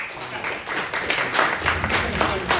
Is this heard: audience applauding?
yes